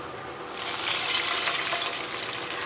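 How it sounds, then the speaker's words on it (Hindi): Water gushes steadily into a cooking pot of fried garlic for mash dal, a full continuous pour starting abruptly and running on without pause, close and fairly loud. "अब इसके अंदर हम डालेंगे पानी।"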